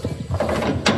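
A tool working the main bolts on an Advantage feeder gives a short mechanical ratcheting, a rapid run of clicks close by that ends in a sharper final click.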